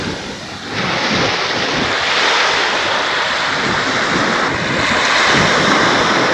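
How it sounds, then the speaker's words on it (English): Ocean waves wash steadily onto a beach on the coast near Fort Kochi, India, a continuous broadband roar with swelling surges and some wind noise buffeting the microphone, with no voices. "So just enjoying the sound of the waves."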